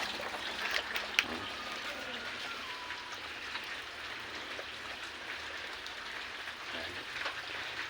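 Light rain pattering steadily in a backyard with chickens, a soft continuous patter with an occasional louder drip.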